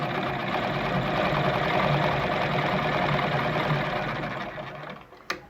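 Gritzner VZ heavy-duty sewing machine running a straight stitch at its lowest stitch length, a steady close whirring hum for about five seconds that winds down and ends with a sharp click.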